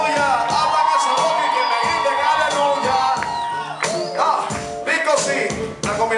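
At a live Christian rap concert, a crowd cheers, whoops and shouts loudly over the music, in surging waves of noise that carry on through the whole stretch.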